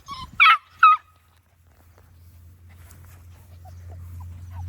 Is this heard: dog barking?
yes